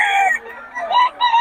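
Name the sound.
chickens clucking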